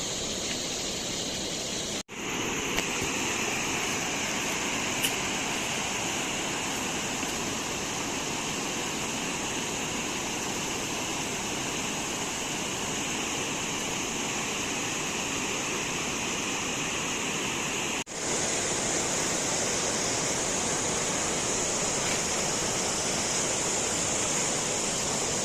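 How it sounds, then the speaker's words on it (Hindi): A mountain waterfall along the Madmaheshwar trek route in the Himalayas roars in a steady, broadband rush of falling water, loud and continuous for the whole stretch with no voices. "इस रूट में काफ़ी सारे झरने हैं"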